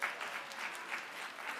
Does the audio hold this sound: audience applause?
yes